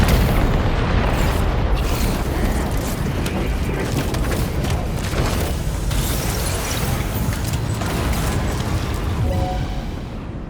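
Heavy weapons fire and explosions from the Death Stranding 2 video game, involving a Higgs army, roll on continuously as dense booms and blasts with no clear gaps, loud throughout.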